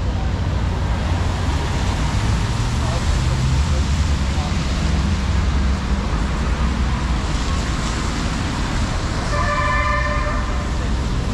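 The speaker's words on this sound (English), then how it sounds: "a local bus" A local city bus passes through busy Yerevan street traffic, with a steady, close roar of engines and road noise throughout and a short horn toot near the end.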